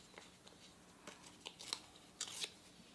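Scissors snip through paper being cut for a grid journal art exercise, a few short, quiet, crisp cuts close by with rustling in between.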